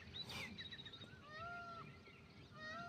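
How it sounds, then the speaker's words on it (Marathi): A peacock calling outdoors at dawn, several faint, distant wavering cries over a low steady background hum, with no voices. "मोराचा आवाज ऐकून आला का?"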